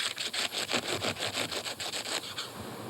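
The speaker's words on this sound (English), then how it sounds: "Cut off the top" A knife saws through the top of an artichoke in a run of quick, regular rasping strokes, close and steady, with no talking.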